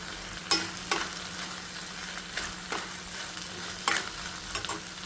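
Okra curry stirred in a pan, with a spoon scraping and clinking against the metal in irregular strokes over a soft, steady sizzle.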